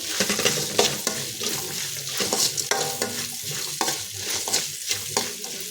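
Potato, green chilli, tomatoes, curry leaves, onion, peanuts and urad dal fry in hot oil, with a steady close sizzle broken by repeated scraping stirs of a spoon against the pan.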